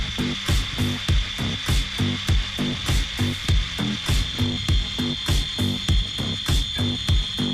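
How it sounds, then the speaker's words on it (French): An angle grinder cuts during a caravan renovation, giving a steady stream of rapid, evenly spaced rasping strokes with a constant high whine running underneath, loud and close. "J'ai un peu la pression de me louper avec la meuleuse,"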